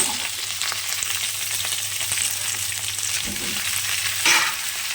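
Onion, potato and previously fried cauliflower sizzle together in a pan, a steady close crackle of frying with a few stirring knocks and a sharper burst near the end.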